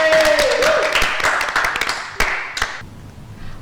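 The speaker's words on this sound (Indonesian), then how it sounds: "Tepuk tangan dulu guys." An audience at a talk-show style event claps together, loud and dense at first, then thinning into a few scattered claps that fade out near the end.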